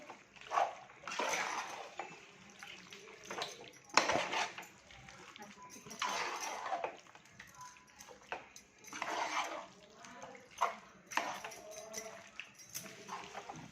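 Marinated chicken is sautéed in a masala in a pan, with clattering spatula strokes, wet bursts of sizzle and the occasional metallic knock in uneven waves, heard up close.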